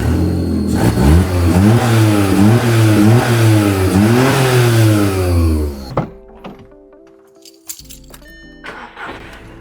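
A VW Polo saved from the scrap yard revs with a quieter exhaust, the engine note climbing and falling in several loud, close pulls before cutting off, leaving faint clicks and clunks.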